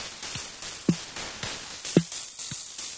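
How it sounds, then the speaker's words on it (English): A Roland TR-8 ride cymbal run through a frequency-swept bit crusher hits in a steady repeating pattern, each gritty, compressed strike decaying briefly before the next, with no talking. "the bit crusher is going to take these rides, compress them a little bit, and give them a gritty character"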